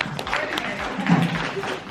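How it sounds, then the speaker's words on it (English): Audience applause at a college NIL education summit panel, a brief burst of scattered clapping from a crowd in a hall, moderately loud with some murmuring underneath. "Yes, you guys can clap it."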